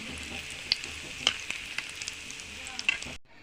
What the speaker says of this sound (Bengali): দেখুন আমি বলগুলো একটু ডিপ ফ্রাই করে নিব